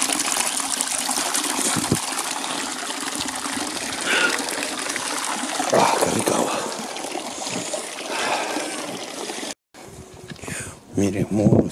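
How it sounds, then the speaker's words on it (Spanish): Water running along an old Inca irrigation canal still serving a village near Vischongo, Peru: a steady rushing and trickling flow with occasional splashes, and a voice briefly heard near the end. "El agua corre por el canal, un canal inca que todavía sigue funcionando para el pueblo."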